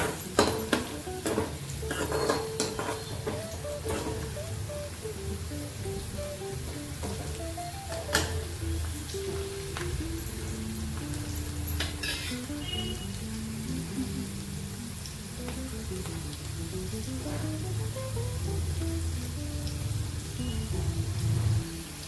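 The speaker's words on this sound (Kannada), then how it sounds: "ಆಮೇಲೆ ಬೆಳ್ಳುಳ್ಳಿನೂ ಹಾಕೊಂಡು ಫ್ರೈ ಮಾಡ್ಕೊರಿ" Garlic fries with onion and green chillies in a pan, giving a continuous sizzle under repeated scraping and clinking stirs of a spoon against the pan, close up and without talk.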